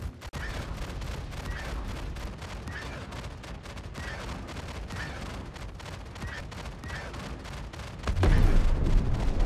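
Ballistic cannon fire from a ship in the space game Star Citizen: a dense, steady stream of rapid shots rattles on for most of the stretch, then a louder, heavier burst near the end, with no talking.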